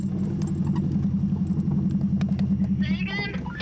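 A 1988 Subaru RX engine hums at steady high revs while climbing an off-road hill, a low, pulsing drone under talking voices throughout.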